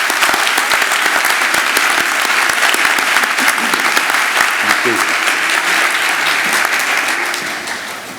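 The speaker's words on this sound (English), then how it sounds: "Let's give them a round of applause." Loud, sustained applause from a large crowd at a law school commencement ceremony, steady throughout and tapering slightly at the end.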